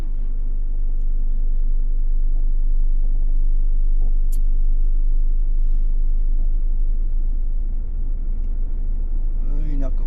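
Road traffic on the way to the Skyway, a steady low rumble of car and truck engines close by with a brief air-brake hiss, under ongoing talking.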